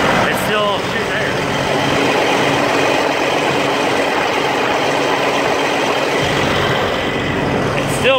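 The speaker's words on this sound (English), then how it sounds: "the fan comes on when you have no air, so that's why it's so loud there." A Caterpillar C15 truck engine runs steadily at close range, its cooling fan engaged and roaring loudly over a dense, continuous mechanical drone with no break in level.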